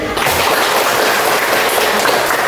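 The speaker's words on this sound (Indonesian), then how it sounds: "tepuk tangan dulu buat Ibrahim" Classroom students clapping for a classmate, a brief burst of dense, steady applause that fills the room at close range.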